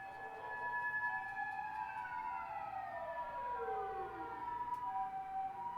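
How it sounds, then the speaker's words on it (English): Emergency sirens wail in from outside an open window, several overlapping tones sweeping up and down over distant traffic hum, moderately loud and steady throughout, with no voices. "There's a lot of sirens"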